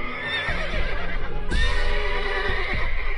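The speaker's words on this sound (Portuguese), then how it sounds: "os cavalos ficaram indóceis, farejando o ar mais uma vez" Restless horses neigh and whinny in a dramatized horror audiobook scene, two or three loud, close, shrill calls in quick succession over a low rumbling background, with no one speaking.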